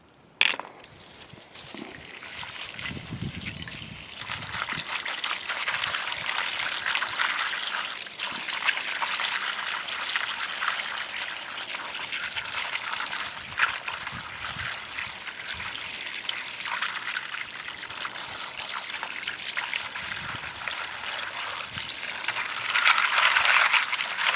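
Water runs steadily over and through a rock tumbler barrel being rinsed clean, a continuous broadband trickle and splash that stays near and fairly loud for the whole stretch, with a brief clunk at the start.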